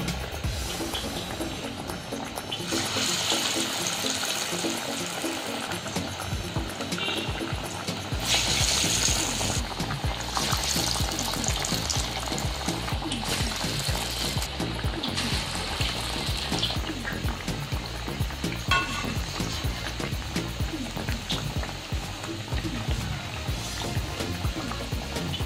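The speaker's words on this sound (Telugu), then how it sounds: "నూనె కొద్దిగా వేడయ్యాక వడలు ఇలా వేసుకోవాలి." Masala vadas drop into hot oil for deep frying, setting off a loud, steady bubbling hiss that carries on throughout with no talk.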